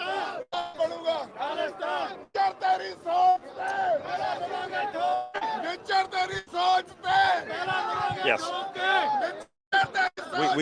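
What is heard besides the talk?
crowd gathering at a Khalistan Referendum vote in San Francisco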